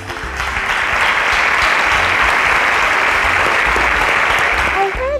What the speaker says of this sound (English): a round of applause for Joe Isola